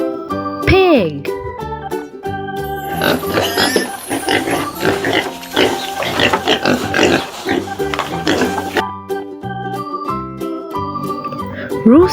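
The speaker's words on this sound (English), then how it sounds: "Pig." Playful pig oinks and grunts ring out loudly over bright background music for several seconds, a busy run of snorts framed by short musical flourishes.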